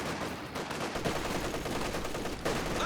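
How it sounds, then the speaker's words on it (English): Machine gun fire in Company of Heroes 2, a 2v2 match, rattles as steady dense bursts for about three seconds amid a busy battlefield mix, loud and continuous with no voices. "MG coming in from the side"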